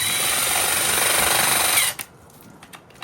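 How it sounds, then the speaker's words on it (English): A loud, continuous power-drill whine and rattle runs steadily for about two seconds while driving bolts into a pool lounger, then cuts off abruptly, leaving faint clicks and near-silence. "Use your drill, probably make it easier."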